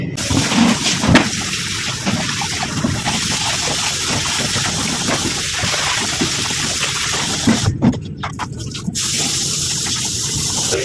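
Water runs and splashes steadily while a motorcycle helmet is washed, making a continuous close gush with brief breaks in the flow near the end.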